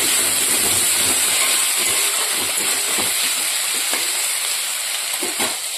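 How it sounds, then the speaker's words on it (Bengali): Small fish fry in a pan in a home kitchen with a steady, close sizzling hiss and scattered pops, and no one talks. "এদিকে মাছটা ভাজার জন্য বসিয়ে দিয়েছি ছোটো মাছ।"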